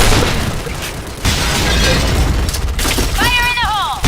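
A grenade exploding in the shooter game Point Blank, heard as a loud, dense boom and rumble that drops off abruptly, then surges again. A voice speaks over it.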